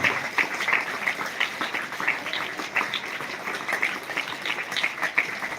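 An audience at a school event applauds state rankers from a class 5 Olympiad exam. The clapping is steady, dense and moderately loud, with no pause across the clip.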